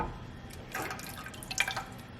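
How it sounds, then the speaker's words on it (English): Water trickles and drips into a pot of sambar while it is cooking, a brief, soft pour in a few splashy bursts heard without any talking. "I'm going to add a little more water here"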